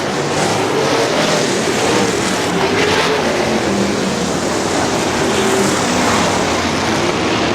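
Winged and non-wing sprint cars race around a dirt track at Butler Battlegrounds in Quincy, their engines making a loud, continuous, unbroken roar.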